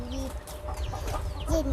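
A chicken clucks close by in a few short, bright calls scattered through a quiet background, with no talk over them.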